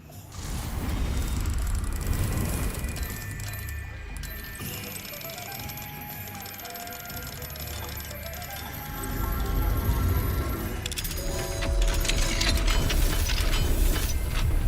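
An enchanted lock in the Hogwarts Legacy video game unlatches under the Alohomora spell with a run of mechanical clicks, ratcheting and gear turns, plus metallic clinks and shimmering magical tones, fairly close and with no talk.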